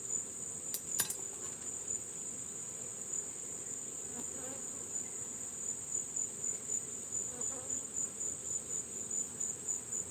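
Honeybees buzzing around an active hive during a honey harvest, a continuous low drone with a steady high insect-like whine and a few sharp ticks near the start.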